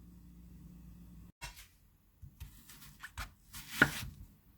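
A few scattered knife chops on a cutting board as onion is sliced, irregular and fairly quiet, after a low background hum, with a louder cluster of cuts near the end.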